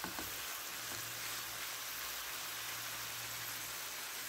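Tender chicken breast sizzles steadily in a hot pan for a zucchini stir-fry, a continuous dense frying hiss with no talking over it.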